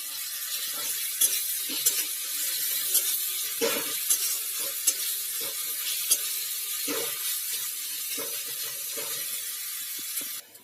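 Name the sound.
onion frying with ginger garlic paste in a pan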